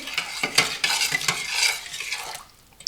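Close scraping and swishing of a spoon stirring a marinade of sugar, salt and oil in a pot, repeated strokes with light metallic clinks, fading out at the end.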